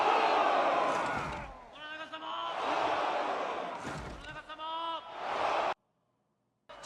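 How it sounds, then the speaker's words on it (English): A crowd in a Japanese feudal-era TV drama cheering a lord's name: several rounds of loud, rhythmic shouted chanting from many voices, each burst rising and falling, then a sudden cut to silence near the end. "Now they're cheering his name."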